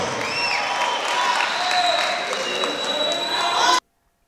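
Church congregation applauding during a service, a dense steady wash of clapping with crowd murmur and some voices mixed in, sustained and fairly loud before cutting off abruptly near the end.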